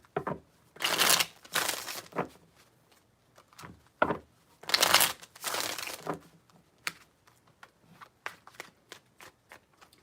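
Tarot cards being shuffled up close in several rapid riffling bursts, with scattered card taps and rustles between them and no voice.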